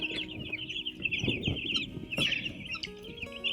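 Chickens cluck and chatter in a village poultry farm brooder, a dense steady flock noise close by with occasional louder squawks, no talk over it.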